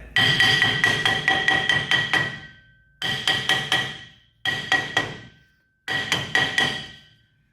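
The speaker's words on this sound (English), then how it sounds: "it's good to give some tap to it to break loose this rust buildup" Four bursts of rapid metallic hammer taps on a rusted vehicle part, loud and close, each burst several quick strikes with short pauses between.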